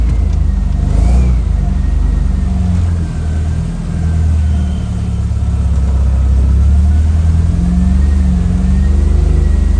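A car fitted with a European Ford engine revs loudly and steadily close by, its deep rumbling drone rising and falling through several throttle swells with no talk over it.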